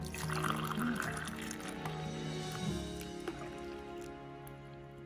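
Herbal chukku kaapi tulsi tea being poured out to serve, a soft steady liquid stream running for a few seconds under faint background music.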